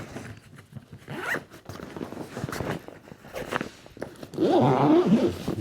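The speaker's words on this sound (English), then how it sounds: "The zips work so well on this thing." A zipper on a Pakt Cero 35L travel bag is pulled several times up close: short scratchy runs in an uneven rhythm, ending in a longer, louder zip.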